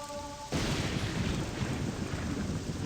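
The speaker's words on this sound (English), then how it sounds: "right now I'm standing in the rain" Steady, dense rain pours down in the video game Morrowind, starting abruptly after a brief tonal musical passage and then continuing as loud, even broadband hiss with low rumble.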